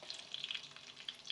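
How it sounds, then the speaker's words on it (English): Quiet, crackly sizzling of onions frying in rapeseed oil in a pot, with faint pops and spits, heard close up at low volume. "sizzling over here in a pot"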